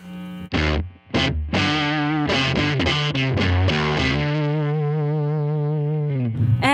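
An electric guitar runs through an amp pushed into breakup by an EP booster, playing a close, gritty riff of choppy chords and single notes, then letting a final chord ring out sustained before a brief scrape.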